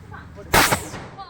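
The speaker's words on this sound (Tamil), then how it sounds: "அவளும் வெடி போடுது பத்தியில" A single sharp firecracker bang goes off during Diwali celebrations with children, loud and close, with a short echo trailing after the blast against quiet background noise.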